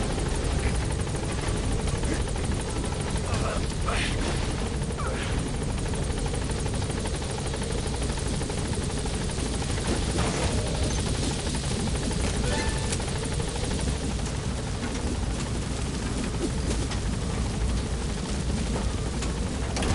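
A helicopter in the Metal Gear Solid video game drones loudly and continuously with a steady rotor thump and engine roar, close and unbroken throughout.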